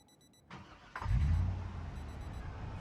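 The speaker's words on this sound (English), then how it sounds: "We are driving slow because we've already rolled this truck once" A truck in a video game starting up and settling into a low, steady engine rumble, preceded by faint electronic beeps, with no talking.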